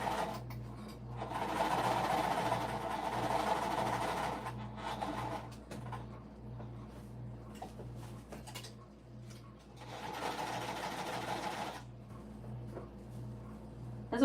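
Sewing machine stitching slippery nylon fabric for a stadium bag, two runs of rapid mechanical whirring over a low steady background hum, with a quieter stretch between them.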